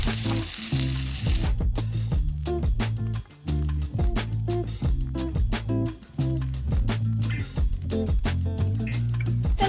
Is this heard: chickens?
no